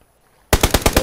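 Automatic gunfire in the PUBG video game bursts in suddenly after a silent half second: a loud, close, rapid string of about six evenly spaced shots.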